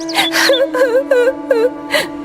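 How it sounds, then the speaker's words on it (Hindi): A woman cries and wails in grief, a few drawn-out, wavering sobbing moans rising and falling close by, with gasping breaths between them. "रोने की आवाज सुनकर बाहर से पड़ोसी भी वहाँ आ जाते हैं"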